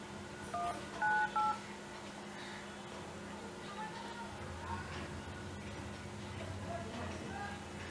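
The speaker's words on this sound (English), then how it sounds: "Go over here and let me call a number." Phone keypad dialing tones sound as a number is entered on a Yureka phone, a quick run of short distinct beeps near the start, then a quiet low hum.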